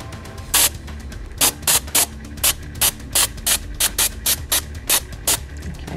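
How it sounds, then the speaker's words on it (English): Hairspray sprayed in short bursts onto a Moebius Viper Mark VII model kit, about a dozen sharp hissing puffs in an irregular rhythm, close and fairly loud, over a faint mechanical background. "I'm going to go ahead and apply some hairspray here."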